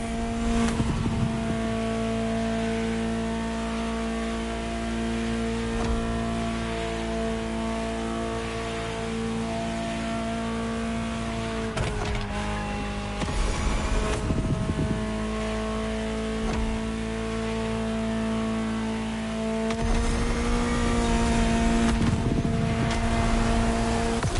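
A high-revving Ferrari supercar engine in a racing video game drones continuously, pitch shifting as it accelerates and shifts gears, loud and steady throughout.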